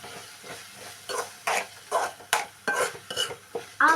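Egg and radish for mullangi muttai poriyal being stirred in a pan, a run of scraping spatula strokes in an uneven rhythm over a light sizzle, close and fairly loud.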